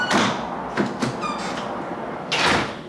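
A door in a farmhouse-style modular home opens and shuts as someone hurries out, giving a sharp knock and thump, a brief squeak, then a heavier closing bang near the end.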